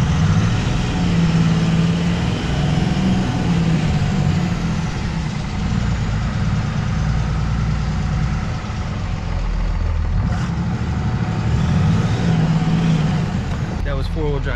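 A 2003 Dodge Ram 2500 pickup with an NP271D transfer case running in four-wheel drive high, its engine droning steadily and close the whole time, with a few faint clicks near the end.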